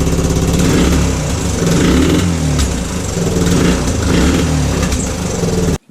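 A Suzuki DR125 motorcycle engine revs up and down repeatedly, loud and close, with a rough, sputtering rumble that cuts off abruptly at the end.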